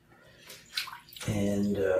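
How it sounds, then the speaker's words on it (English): Water sloshes and splashes as a plastic Amiga 600 computer case is soaked in a tub of lukewarm water, soft movements first, then steadier running and splashing, with a voice speaking over it. "Soak it in water"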